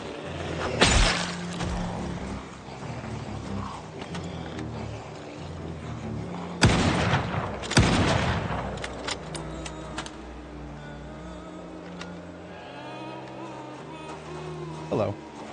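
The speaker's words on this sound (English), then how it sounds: "Zombies going in the wrong direction when they hear the gunshot and ending up on all sides." Gunshots in the survival game Project Zomboid: a few sharp, loud broadband cracks, the strongest near the start and around the middle, set among game ambience and scattered clicks.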